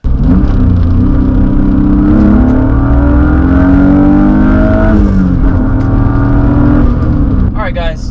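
A car engine revving hard during a drift attempt, a loud sustained roar with rising and falling pitch and heavy rumble, close by, with a voice speaking briefly over it.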